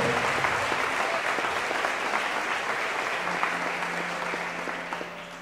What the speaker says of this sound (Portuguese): Só os que creem nisso podem aplaudir e fazer muito barulho.